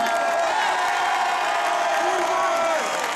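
Crowd at a political gathering on penalizing Armenian genocide denial cheers and applauds, a continuous loud roar of voices with sustained whoops and shouts layered over clapping throughout.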